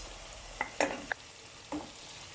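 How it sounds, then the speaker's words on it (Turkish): Chopped tomatoes being sautéed in a pan while being stirred, a few short scraping and clattering strokes over a low, steady sizzle, close and fairly quiet, with no talking. "Domatesimi de bu şekilde böyle soteledim."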